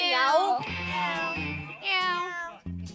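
Players on a Korean TV game show imitate a cat during rock-paper-scissors, drawing out several high meowing cries one after another, close and fairly loud, with background thumps between them.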